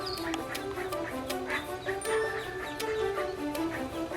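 Ducklings peep and quack in a busy, overlapping chorus of small high calls near rocks, steady throughout with soft background sounds and a faint voice.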